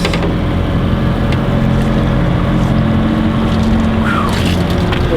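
A motorboat engine drones loudly and steadily throughout on a river below Wells Dam while salmon fishing, with wind and water rushing around it.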